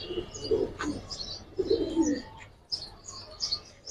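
Domestic pigeons of an old silver coloring breed, a male and female pair, coo in low rounded bursts close by, with a few sharp chirps and light wing flutters in between.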